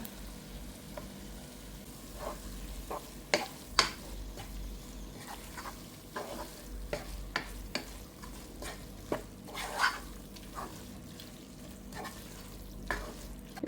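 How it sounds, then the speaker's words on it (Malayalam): Cooked okra tipped into a pan of softened tomatoes and stirred, giving a low steady sizzle with scattered scraping and clatter of a spoon against the pan, close and without talk. "ഇനി നമുക്ക് വേവിച്ച് വെച്ചിരിക്കുന്ന ഇതുണ്ടല്ലോ വെണ്ടയ്ക്ക ഇതങ്ങോട്ട് ഇട്ട് കൊടുക്കാം"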